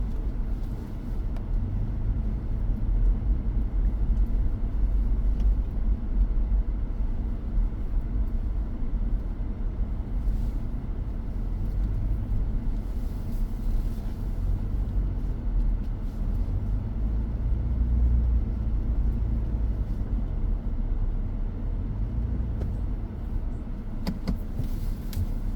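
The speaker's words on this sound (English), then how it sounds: "we're gonna back all the way out of this again" A vehicle backs slowly along a rough, rocky back road, its engine a steady low rumble with occasional bumps and jolts throughout, close and continuous with no talk.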